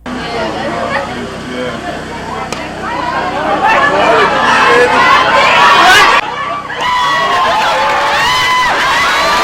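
Spectators at a football match between a visiting national team and a regional team during a Golden Jubilee celebration; loud, continuous crowd noise with cheering, shouting and chatter, swelling in bursts throughout.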